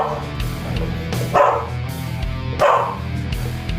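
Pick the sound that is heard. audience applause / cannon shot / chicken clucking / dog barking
dog barking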